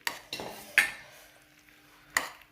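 A utensil stirs pasta with a meat mixture in a baking dish, a few distinct scraping clinks against the dish spaced irregularly, close and moderately quiet with soft mixing sounds between.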